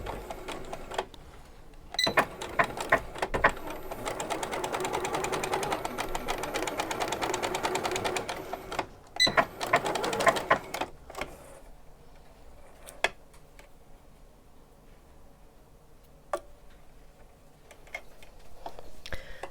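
A sewing machine stitches a seam in fabric, a steady close mechanical whirr that runs for several seconds, stops briefly, restarts, then gives way to a few scattered clicks and taps.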